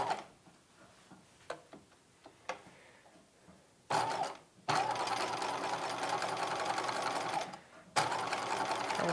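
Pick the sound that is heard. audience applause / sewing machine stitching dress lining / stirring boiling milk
sewing machine stitching dress lining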